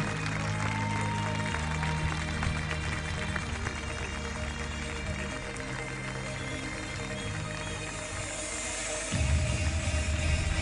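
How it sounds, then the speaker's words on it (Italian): An audience at a beach volleyball event in Civitanova Marche applauds, a soft, continuous patter of clapping heard at a distance beneath music, rising a little toward the end. "l'applauso di Civitanova Marche"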